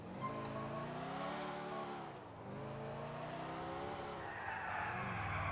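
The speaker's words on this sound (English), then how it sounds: "That's a pretty bad drift." A car drifts in Grand Theft Auto IV, its engine whining and wavering in pitch while the tires squeal and skid, loud and close, easing briefly midway before revving and screeching again.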